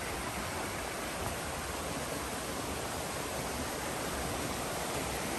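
Steady, broadband rush of a stream running beside a stone-paved trail at a waterfall, unbroken and fairly loud, with no voices.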